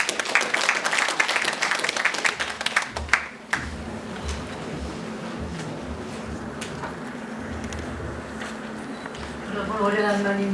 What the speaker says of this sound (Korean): 맹단자 선생님 박수로 모시겠습니다